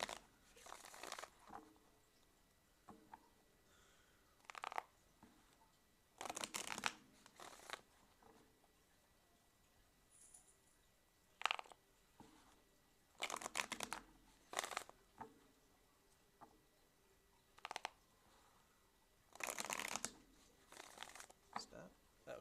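Tarot cards are shuffled by hand in repeated bursts of riffling and slapping, with quiet pauses between them and a voice talking now and then.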